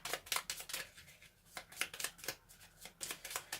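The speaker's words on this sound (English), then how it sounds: "I add 3 zombie cards to my deck before shuffling. Alright, so I'll shuffle." A deck of board game cards is shuffled by hand, a series of quick riffling bursts and soft shuffles repeating in an irregular rhythm, close and fairly quiet.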